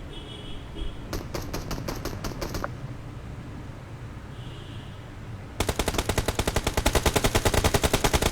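Video game gunfire crackles in rapid bursts: a short automatic volley early, a quieter stretch, then a long, loud sustained stream of shots to the end.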